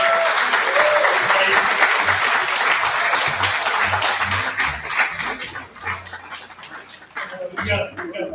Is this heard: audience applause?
yes